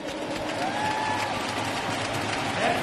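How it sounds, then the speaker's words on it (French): Crowd applause in a Davis Cup tennis stadium before a doubles match, a continuous even clapping with light murmur throughout. "Encore des applaudissements pour ces deux équipes"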